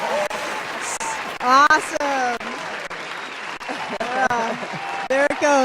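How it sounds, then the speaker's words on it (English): A live club audience claps and cheers for Donita Sparks of L7 after a performance, the crowd noise steady and full, with a loud whooping voice rising over it and someone talking through the applause. "And the crowd goes wild."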